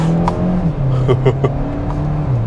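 A 2022 Kia Soul Turbo with a dual-clutch gearbox accelerates hard at full throttle, its engine note rising steadily with a brief dip around a gear change. The sound is loud and continuous, heard from inside the car.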